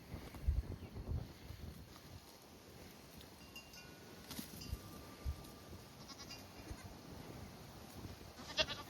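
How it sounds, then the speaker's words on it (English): Nigerian dwarf goats, including a young kid, bleat faintly and at a distance outdoors amid wind noise and low rustling, with no voices. "these are Nigerian dwarf goats"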